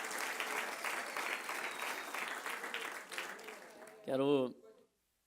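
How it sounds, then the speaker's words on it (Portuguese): A church congregation applauds together in a steady, dense wash of clapping lasting about four seconds, then a short louder burst of voice before it stops. "Vai aplaudir, aplauda forte"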